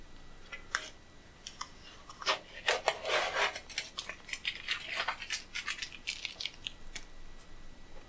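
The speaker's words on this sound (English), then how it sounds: "So, let's get all the tape out of here." Tape is pulled and peeled off a PC power-supply shroud, giving close, quiet bursts of rasping, ripping and rubbing sounds in an uneven sequence, with no voices.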